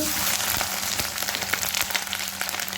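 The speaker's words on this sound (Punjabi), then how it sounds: "ਤੇਲ ਗਰਮ ਹੋ ਗਿਆ ਹੋਇਆ ਤੇ ਅਸੀਂ ਪਾਵਾਂਗੇ ਹੁਣ ਅਦਰਕ" Ginger hitting hot oil for a saag tadka gives a steady, close crackling sizzle with dense, fine popping throughout, moderately loud and continuous.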